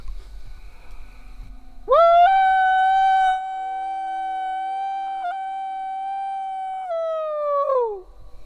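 A person imitates a Bigfoot howl during a night search in the Kentucky woods, one long, loud, sustained wavering call that holds steady for about six seconds, then bends downward and fades out.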